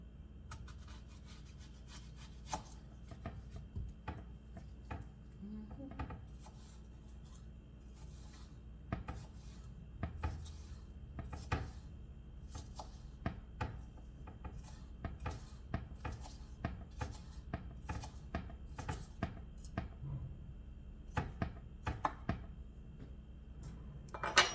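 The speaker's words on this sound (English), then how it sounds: "Now we're going to slice some onion into this. I'm using red onion." Red onion minced with a kitchen knife for seasoned Cornish hens: a long run of crisp, close cutting strokes in an uneven rhythm, with short pauses between bursts and no talking.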